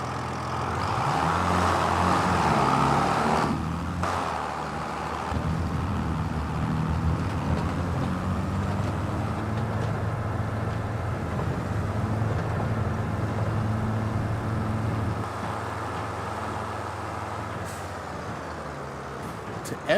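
A farm vehicle in Farming Simulator 25 drives off to fetch a trailer, its engine holding a continuous mid-loud drone with slight shifts in pitch throughout.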